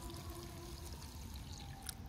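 Water poured into the bag of a 2021 Norwegian Arctic field ration, Cod in Creamy Curry Sauce menu, a quiet continuous trickle close by and without talk.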